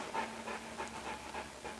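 A German Shepherd dog pants in steady, rhythmic breaths, close and moderately loud, with no talking over it.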